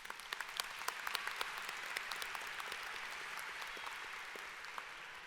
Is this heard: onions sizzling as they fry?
no